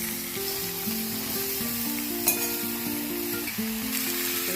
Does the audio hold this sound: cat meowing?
no